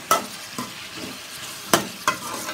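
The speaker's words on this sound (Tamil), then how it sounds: "வெங்காயம் பார்த்திங்கன்னா கொஞ்சம் வதங்கிட்டுச்சு, கேப்சிகம் கொஞ்சம் வதங்கணும்." Onion and capsicum sauté in a pan, with four crisp spatula strikes and scrapes against the pan over a soft sizzle, close and clear.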